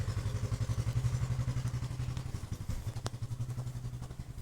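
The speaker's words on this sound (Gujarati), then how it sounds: "આ ટ્રેક્ટર નાનું ટ્રેક્ટર આ પણ આપણે હાંકી લીધું." A small tractor engine runs nearby with a fast, steady, pulsing chug at a low level, plus a single sharp clatter partway through.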